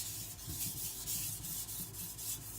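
A Sakon Ryuga gyuto knife slides over a whetstone under only its own weight, giving a soft, hushed rubbing in an even rhythm of light strokes, close and quiet.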